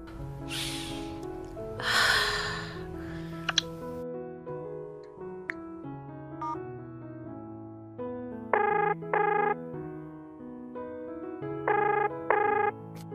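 A cellphone placing a call gives a repeating ringback tone in paired electronic bursts, moderately loud and close, over a soft background of music after some brief breathy vocal sounds at the start.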